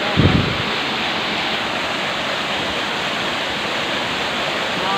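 A three-tier waterfall pours with a steady, dense roar of broadband water noise that holds unchanged throughout, with a brief louder splash near the start.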